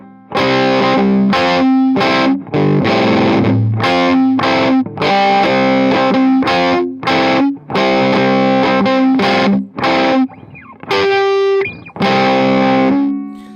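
A distorted PRS SE electric guitar on its bridge pickup plays bright, twangy chords in short strummed bursts with brief gaps, then ends on a few sustained higher notes.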